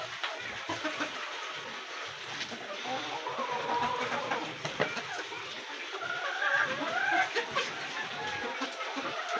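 Egg-laying hens cluck in soft, intermittent bursts at a rooftop coop, fairly faint and mixed with a low background hum and some speech.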